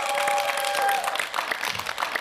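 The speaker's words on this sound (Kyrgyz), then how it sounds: "Кол чабуулар болсун, достор, туугандар." An audience claps enthusiastically, a dense burst of applause that thins slightly toward the end, with faint crowd murmur.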